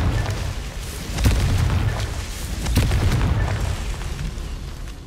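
Confringo blasting spell explosions in Hogwarts Legacy, a loud booming burst with rumbling low end, followed by a second blast a bit later, no voices.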